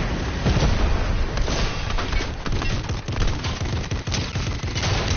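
Gunfire in a Fortnite battle, loud rapid shots crackling in dense bursts close by, with wood-splintering impacts mixed into the steady, heavy barrage.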